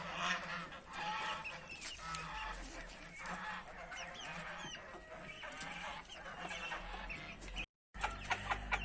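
Geese honk repeatedly at a distance, mixed with clucking fowl and other farmyard birds in the background.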